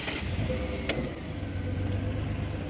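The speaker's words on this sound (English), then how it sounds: "this car is not sounding good" A car engine idles with a low, uneven rumble, punctuated by a brief click.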